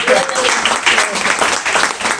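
At an improv comedy show, the audience gives brief, loud applause, a burst of many hands clapping close by with crowd voices mixed in.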